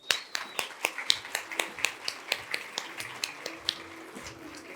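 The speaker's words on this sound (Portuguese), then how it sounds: "Uma salva de palmas." Audience at an innovation award finalists' presentation in Brazil clapping, individual claps distinct and fairly regular, moderately close and not very loud, thinning toward the end.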